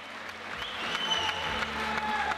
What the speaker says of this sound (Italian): Ovviamente applauso anche al suo avversario.